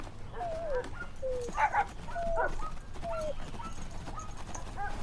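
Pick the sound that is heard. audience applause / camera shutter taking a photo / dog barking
dog barking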